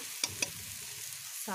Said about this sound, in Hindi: हमारा अच्छे से भून के तैयार ना हो गया तब तक इसको भूनते रहेंगे। अब जो है हमारा तड़का लगभग हो ही चुका है।